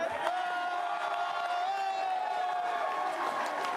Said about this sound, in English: Listen to this crowd one last time.